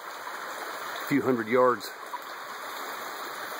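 A mountain creek flows just downstream from a waterfall, a steady rushing wash of water that continues under a brief spoken phrase from a man.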